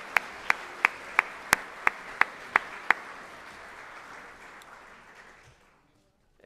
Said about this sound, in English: round of applause for all of our new employees